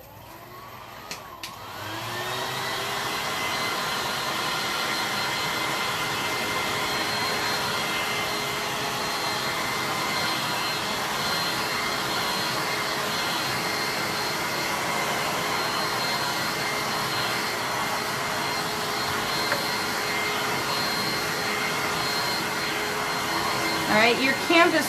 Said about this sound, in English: But I'm going to use my blow dryer on it real quick.